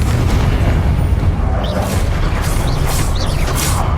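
Confringo explosive spell cast in the Hogwarts Legacy video game, a loud rumbling blast with crackling, mechanical debris filling the whole stretch, dense and close without speech.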